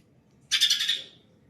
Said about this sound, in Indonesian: Seperti biasa dia nih berisik sekali, ngeledekin.